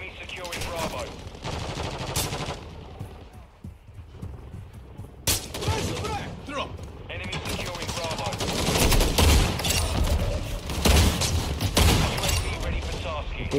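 Gunfire in Call of Duty: Warzone Mobile played on a Xiaomi Pad 6: dense, rapid bursts of automatic shots and single cracks run throughout, growing heavier toward the end, with someone talking over the shooting.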